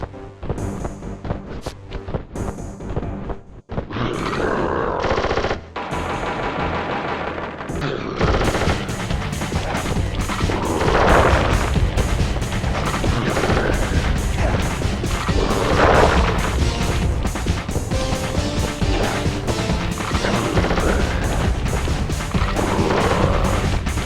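A Sly Cooper video game boss fight erupts in dense rapid gunfire and crashing impacts, starting with spaced bursts, then a loud, continuous barrage over game music.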